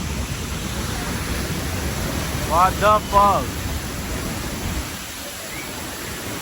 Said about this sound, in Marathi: छोटा धबधबा मी दाखवतो तुम्हाला. हा छोटा धबधबा आहे.